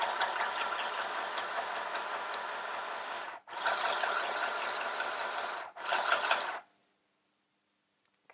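A mini sewing machine runs in a steady mechanical whir while stitching. The first long run is broken by a brief gap, then a shorter final burst, and quiet follows.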